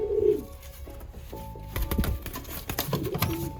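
Young white homing pigeons coo softly up close, with a low throaty call at the start, followed by light fluttering and pattering movement sounds.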